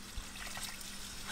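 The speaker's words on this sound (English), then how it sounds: "In goes the water." Water pours steadily into a pot of browned meat and garlic for Cajun jambalaya, a soft continuous trickling splash heard alone.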